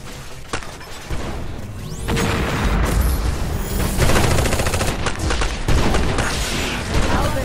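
Sustained gunfire and booming blasts from an enemy attack on a base in the video game Eximius, loud and dense, with rapid bursts and explosions layered throughout.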